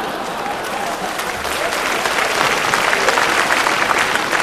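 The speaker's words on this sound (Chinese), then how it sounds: "一掌他人志气，仲拍手掌" Theatre audience at a 1995 Hong Kong stand-up comedy show bursting into sustained clapping that grows slightly louder and denser, a broad steady wash of many hands with a few cheers mixed in.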